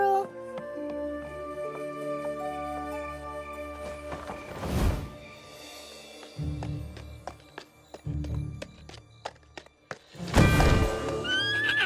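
A mare gives two loud, shrill whinnies close by, and her hooves clip-clop between them. Voices can be heard around the animal.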